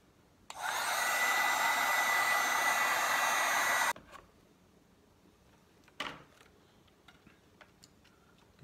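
A heat gun blows hot air over vinyl wrap on a WR250R motorcycle, a loud, steady blower roar lasting about three seconds before cutting off. A couple of faint knocks follow in a quiet room.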